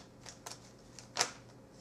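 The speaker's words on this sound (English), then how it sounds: "we're going to give the deck another good shuffle" Tarot cards riffled in a deck shuffle: a few soft papery bursts, with the strongest flurry near the end, faint and close, with no voices.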